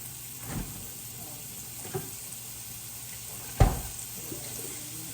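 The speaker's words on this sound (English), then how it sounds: "I'll let that saute a little bit" Food sautés in a pan over medium heat, a soft, constant sizzle with a few louder bumps of a utensil moving the food around.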